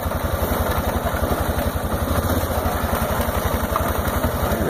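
A snow plowing vehicle's engine running steadily in gear, a close, loud, continuous low rumble with an even pulsing throb and no voices.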